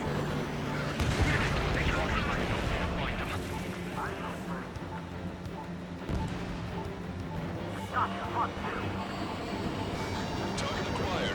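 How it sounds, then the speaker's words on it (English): Missile launches and explosions rumble through a jet combat mission in Ace Combat 7 on Nintendo Switch. Dense booms and crashes run without pause under radio chatter, with a few sharper blasts popping out. "Strider 1, missile away."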